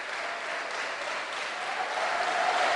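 Congregation applause in a church service, a continuous even wash of many hands clapping, moderately loud and steady, with no talk over it.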